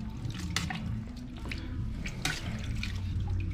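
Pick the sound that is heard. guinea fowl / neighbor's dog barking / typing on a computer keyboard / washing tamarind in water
washing tamarind in water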